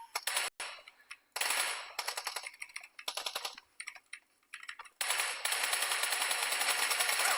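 Rapid automatic gunfire in an online shooter game, crisp bursts of shots broken by short pauses, with a final long sustained volley, fairly close and loud and heard alone.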